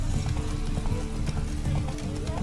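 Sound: horse hooves galloping in the video game Witcher 3

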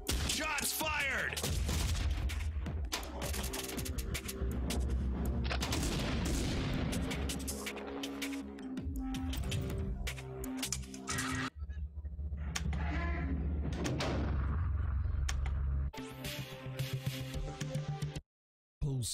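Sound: gunfire in Zaccaria pinball video game Postal Redux table

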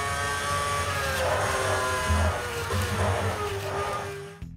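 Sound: miniature Formula 1 race car driving, controlled from a video game

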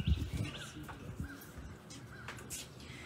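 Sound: birds calling outdoors during a church service

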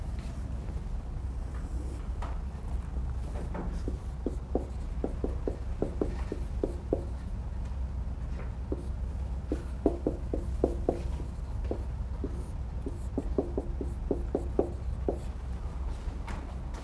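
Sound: writing on a classroom board

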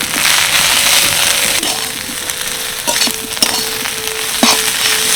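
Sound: stirring moringa leaves with turmeric and chili powder in pan

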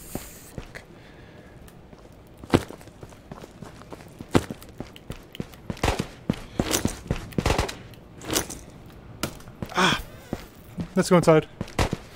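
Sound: gunfire in the video game Ghost of Tabor

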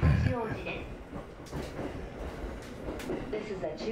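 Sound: Yamanote Line train running

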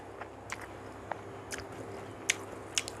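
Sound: chewing while eating khanom jeen nam ngiao

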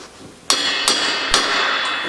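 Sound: hammer driving a valve seat into a Porsche 911 cylinder head

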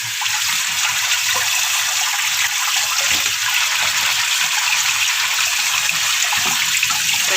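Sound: rinsing black peas under running tap water

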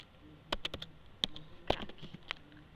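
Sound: typing a folder name on a computer keyboard

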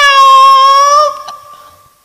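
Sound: voice imitating a cat meow

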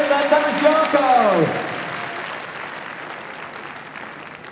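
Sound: applause at Crufts agility show

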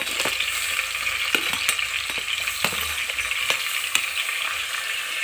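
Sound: carrots frying in hot oil with chillies and onions

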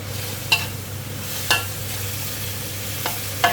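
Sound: stir-frying straw mushrooms and squid with holy basil

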